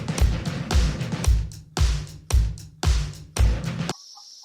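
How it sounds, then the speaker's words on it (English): A hen in a barn clucks loudly while laying an egg, giving six rhythmic bursts of squawking close by, then a brief high tone at the end. "Can you guys hear the chicken laying an egg on the other side of this barn?"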